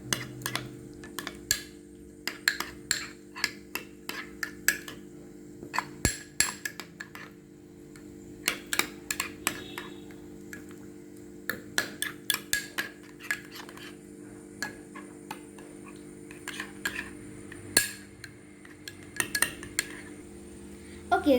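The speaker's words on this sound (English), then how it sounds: "And now you are going to mix this all together." Sandwich filling seasoned with a quarter teaspoon of pepper gets stirred in a bowl with a utensil, producing steady, irregular clinks and scrapes of metal against the dish throughout, close and fairly quiet, with no talking.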